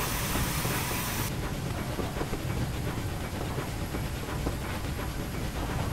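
Steam locomotive, a Southern Region Bulleid Pacific in Train Simulator 2017, rolling along track with a steady broadband rumble, hiss and rapid rhythmic clicking, loud and continuous throughout.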